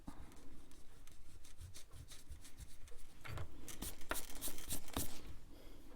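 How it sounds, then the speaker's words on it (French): A rubber eraser rubbing pencil construction lines off a paper drawing, a continuous close scratchy scrubbing that grows busier and louder toward the end, with no voices. "je vais gommer un petit peu les traits de construction"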